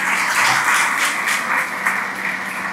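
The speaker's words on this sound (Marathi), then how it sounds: "आपण चिपळूणवासियांनी जोरदार टाळ्या आदरणीय बकाटे सर" An audience in Chiplun applauds Ratnagiri SP Nitin Bagate at a public meeting, with steady, dense clapping that holds throughout without pause and no talk over it.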